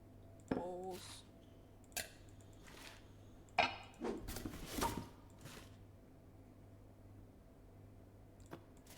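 Bowls being placed on shelves in the video game Unpacking, heard as a few quiet ceramic clinks and clicks spread over a faint background, with a person talking briefly in between.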